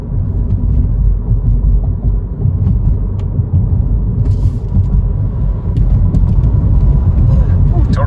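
Electric Mini in sport mode pulling hard along a straight, a steady loud low drone of motor and road roar filling the cabin throughout.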